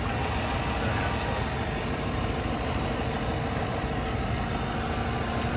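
A 2019 Chevrolet Silverado LD pickup with a 5.3-liter V8 idles steadily at a close distance, making a continuous low, even rumble with no breaks and no talk over it.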